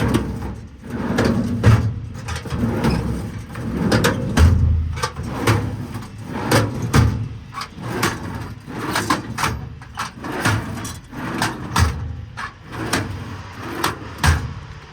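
Metal drawers on a 2022 Ford F550 service truck repeatedly sliding open and shut, a steady series of rolling clunks and sharp knocks, close by, with no talking.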